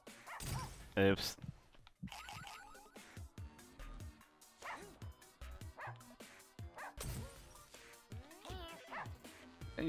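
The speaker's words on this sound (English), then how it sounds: "You dumb dog, you ate my food." Barks and yips from dogs in a Russian subway video game come in irregular bursts over game music and effects, with a person talking in between.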